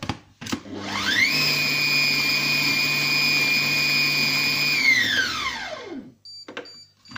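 A Compact Cook Pro food processor chops ingredients for tuna rillettes and guacamole, a loud steady motor whine spinning up, holding level for several seconds, then winding down, with a few clicks and knocks at either end.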